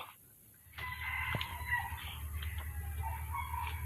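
Large Kedah chickens cluck and murmur nearby over a low background hum, with a few short higher calls rising out of the flock.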